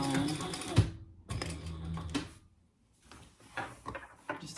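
A sewing machine makes short runs of stitching over laptop bag handles, going back over them for a triple stitch. Each run is a close mechanical whirr, stopping and starting in separate bursts with brief quiet pauses between them.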